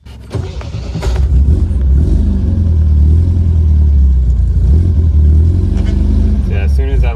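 An MGB sports car left sitting for ten years pulls away in second gear because first won't engage, its engine running loud and close with a low steady drone that swells as it moves, while people talk over it.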